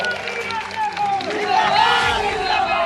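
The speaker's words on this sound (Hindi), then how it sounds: "सब लोग लपट के भैया माननीय नीरज शेखर जी जोरदार ताली बजा के स्वागत करा।" A large crowd at a political rally in Ballia roars and cheers, swelling louder, with a loudspeaker voice ringing over the din.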